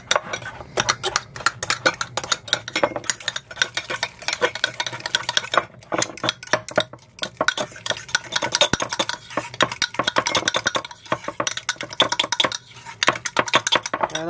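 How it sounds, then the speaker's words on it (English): A fork scrapes and clinks rapidly against a copper-bottom pot while mashing bananas, producing a steady, busy rattle of metal taps up close with no talking. "we're gonna mash the bananas up. You just use a fork."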